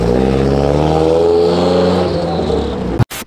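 An old Nissan S15 engine revving: a loud, steady, buzzing drone held for about three seconds, then cutting off abruptly, followed by a couple of short, sharp bursts.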